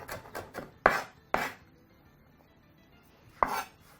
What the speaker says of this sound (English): as you work towards finishing off chopping of your onions